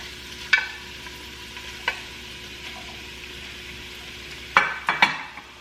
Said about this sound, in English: let's go ahead and drop our shrimp in. Ooh, yes, I love the sizzle.